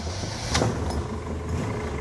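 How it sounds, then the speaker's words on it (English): A 1960 Chevrolet Corvette engine starting with a brief throttle blip, a sharp burst of noise and then a steady low rumble close by. "Just tickle the throttle and it bursts into life."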